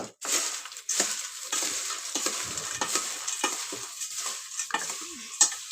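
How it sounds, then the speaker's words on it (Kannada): Food is mixed in a pan with continuous scraping strokes over a soft sizzle, close and steady, with no talking. "ನೋಡಿ ಬರೀ ನಾನು ಮಿಕ್ಸ್ ಮಾಡ್ಕೊತಾ ಇದ್ದೀನಿ"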